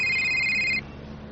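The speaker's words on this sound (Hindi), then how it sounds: "तभी सावित्री देवी के मोबाइल पर उसकी बेटी देवोश्री का कॉल आया।" A mobile phone rings with an electronic ringtone for an incoming call, a bright sustained tone lasting under a second that then cuts off, leaving quiet room background with no talk.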